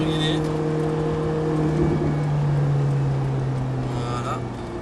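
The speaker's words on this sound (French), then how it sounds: "On va peut-être même laisser passer la Lamborghini." A Lamborghini passes on the Montlhéry circuit, a steady engine drone with a sustained low tone swelling slightly then easing, heard from inside another car with a voice talking over it.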